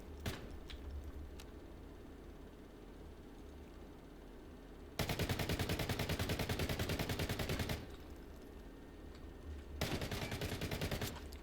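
Rapid automatic gunfire from a gun in Arena Breakout Infinite, two long sustained bursts after quieter ambience and a few isolated shots, loud and close with no talk.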